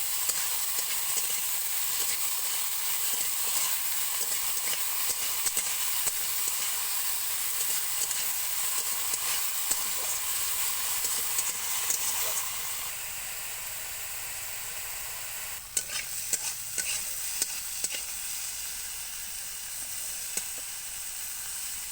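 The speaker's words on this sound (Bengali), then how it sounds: "এরপর বেগুন ভাজা করে নেব।" Eggplant slices fry in a pan with salt, giving a steady, loud sizzling hiss that eases midway, then a few sharp scrapes and taps of stirring near the end.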